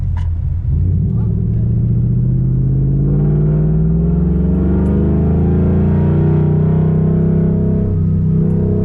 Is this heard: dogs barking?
no